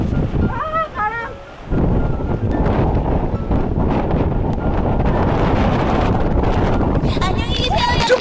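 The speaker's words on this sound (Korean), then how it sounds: "아, 바람." Strong sea wind buffets the microphone as a steady roar throughout while fishing on the coast of Ulleungdo, with voices talking briefly near the start.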